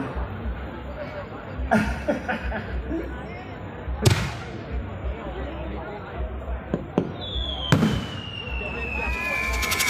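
Bang fai rockets fired at a rocket festival in Phanom Phrai, Thailand, with several sharp bangs and a rising whistling hiss amid a crowd's noisy chatter and cheering throughout.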